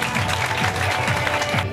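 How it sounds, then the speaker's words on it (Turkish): An audience applauds at a school award ceremony as a student is called up, with brisk, continuous clapping from a crowd that is steady throughout and heard alone. "Alkışlarınızla."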